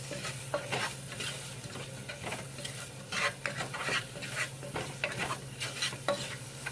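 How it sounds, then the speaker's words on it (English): Oxtail stew being stirred in a pot, soft scraping and sloshing strokes repeating irregularly over a quiet low hum, fairly faint. "we're going to just stir that up real quick, see how it looks"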